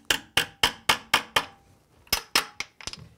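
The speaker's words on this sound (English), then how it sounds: "we're going to tap these straps in so that they conform to the cement" A hammer taps metal straps of an egress window into cement, a string of sharp, close strikes in two bursts: six evenly spaced blows, a pause, then several quicker taps.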